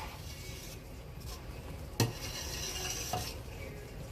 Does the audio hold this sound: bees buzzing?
no